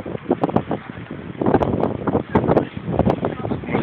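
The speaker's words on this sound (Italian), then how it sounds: "E tira un vento fortissimo da" Very strong east-northeast wind buffets the microphone at a ferry port, roaring in gusty, uneven bursts close up with no pause.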